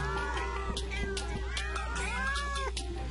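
A cat meows several times in a row, drawn-out rising and falling calls close by over a low steady background hum, with no talking.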